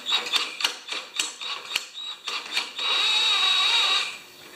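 A 196cc earth compactor engine being pulled over with the spark plug out: a series of quick rhythmic ratcheting clicks, followed by a sustained whirring mechanical drone that fades away.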